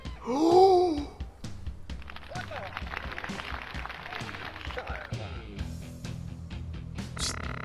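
A cat in the physics puzzle game Bad Rats gasps with a strained, wavering cry near the start, followed by a busy run of clattering game sounds at a steady moderate level.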